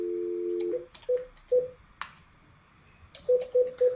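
Telephone keypad dialing a number, a steady tone followed by a string of short, evenly spaced beeps with a few clicks between them, close and clear, with no voices.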